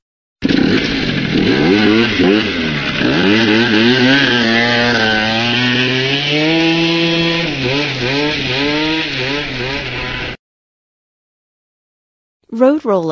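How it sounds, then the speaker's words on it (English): A small scooter engine in the video game Landscape buzzes and revs, pitch rising and falling as it accelerates and slows, close and loud for about ten seconds before cutting out. "Scooter."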